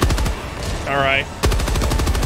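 Rapid automatic gunfire in Helldivers 2, loud close bursts of evenly spaced shots that pause briefly around a short tonal sweep before resuming.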